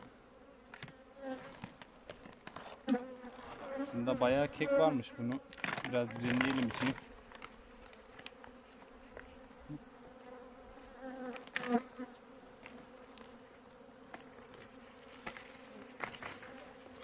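Honey bees buzzing at a hive during winter feeding with sugar candy in Konya, a close, uneven hum that swells in short bursts while a person talks nearby.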